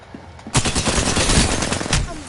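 Rapid automatic gunfire from the video game Apex Legends erupts after a short lull and keeps rattling loudly and densely for almost two seconds.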